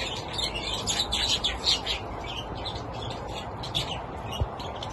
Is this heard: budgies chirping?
yes